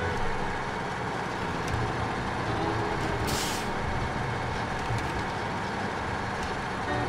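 A truck drives in SnowRunner, its engine droning steadily and close, with a short hiss of air brakes midway and no talking.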